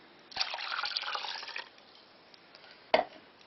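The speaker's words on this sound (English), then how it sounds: "Pour in the rest of your water." Water is poured into a jug while making homemade yoghurt, a soft, brief splashing gush lasting about a second, then a short clink or splash near the end, quiet and close.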